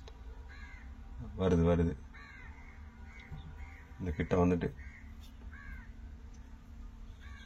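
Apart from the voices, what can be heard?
birds gathering over fishing boat net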